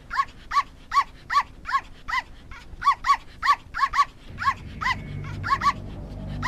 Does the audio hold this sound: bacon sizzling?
no